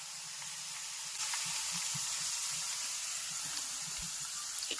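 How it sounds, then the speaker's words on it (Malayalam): Herbal Ayurvedic hair oil simmering in a pan, a quiet steady hiss with soft, scattered bubbling pops throughout, no voices. "ഇപ്പൊ പതുക്കെ ആ തിളയ്ക്ക് ഒരു കുറവ് വന്നിട്ടുണ്ട് കേട്ടോ. ഇപ്പൊ ആ വെള്ളപ്പത കുറവുണ്ട്, എന്നാലും വെള്ളപ്പത ഉണ്ട് കേട്ടോ."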